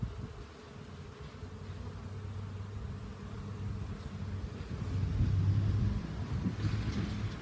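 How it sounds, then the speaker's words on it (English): Honeybees swarm around an open beehive, a dense, continuous buzzing that swells and fades as foragers circle close to the hive. "you can tell I'm getting a lot of bees around me"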